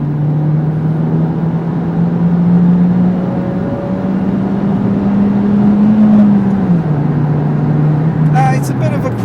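An older Ford Focus engine with 86,000 miles hums steadily from inside the cabin, its pitch rising slightly and then dropping as the manual gearbox shifts, with a voice speaking over it.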